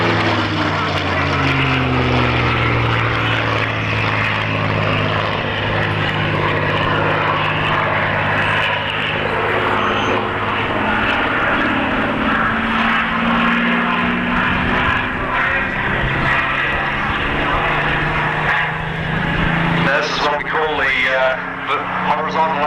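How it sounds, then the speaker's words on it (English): Propeller aircraft flying aerobatic manoeuvres such as a Cuban eight at an airshow at Matamata Airfield, its engine droning loudly and continuously with shifting pitch as it passes, ending with a closer roar and sweep, while an announcer talks over it. "Horizontal 8 or the Cuban 8. Tim's demonstrating for you here today."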